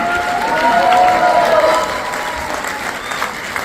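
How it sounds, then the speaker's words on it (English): Parents and guests at a playschool annual day give a loud, sustained round of applause and cheers for the little graduates, with voices mixed into the crowd noise before the clapping eases off. "welcome them with a big round of applause, everyone"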